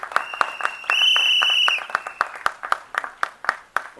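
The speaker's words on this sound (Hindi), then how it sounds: "मुकेश भट्ट साहब के लिए जोरदार तालियां हो जाए लेडीज एंड जेंटलमैन।" Scattered clapping from a small crowd honoring film producer Mukesh Bhatt at a Bollywood trailer launch, with sharp individual claps in an irregular rhythm and a brief sustained electronic tone partway through.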